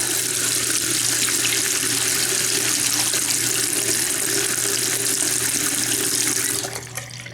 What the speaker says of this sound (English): Then we'll turn on the water.